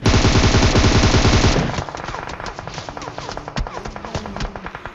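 Rapid automatic gunfire from a shooting video game, a loud dense burst for about a second and a half, then scattered quieter shots and game effects.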